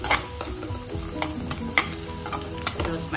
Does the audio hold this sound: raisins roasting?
yes